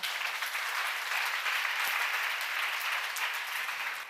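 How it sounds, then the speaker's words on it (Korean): A church congregation claps together during a seminar sermon, a dense steady burst of applause lasting several seconds with no voices over it. "믿는 사람만 박수 한번 쳐봐요."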